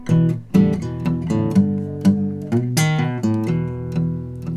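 A plucked acoustic guitar plays a fingerstyle blues phrase in E with picked bass notes and ringing chords, steady and up close with no voice.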